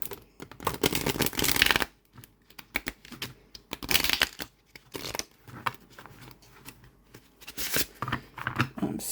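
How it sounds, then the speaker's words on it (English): A linen-finish tarot deck of slightly stiff, thick cards being shuffled by hand, several bursts of rapid riffling flutters separated by pauses, close and crisp. "I'm trying to show you how easy linen decks are for me to shuffle"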